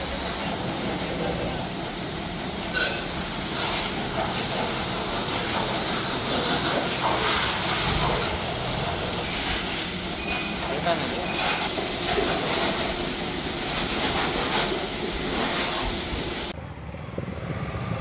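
Water spray hissing steadily over an Apache RTX 300 motorcycle at a service centre, a loud continuous jet that runs for about sixteen seconds and then cuts off abruptly.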